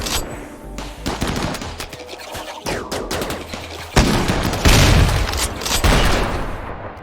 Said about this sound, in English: nice shot with a grenade launcher